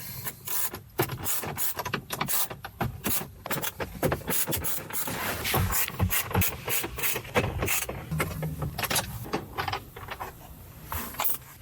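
Dashboard screws come out of a 2015-2018 Ford Ranger MK11 with a 7mm socket, a close run of dense ratcheting and scraping clicks in uneven bursts with no talking.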